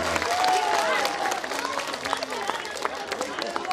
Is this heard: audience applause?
yes